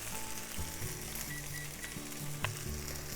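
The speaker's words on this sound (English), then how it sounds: "Saute it for 10 minutes or so, and it looks like everything is well cooked." Chicken and lotus root sizzle steadily in a hot pan, a close, even frying hiss with occasional soft stirring scrapes and a brief clink.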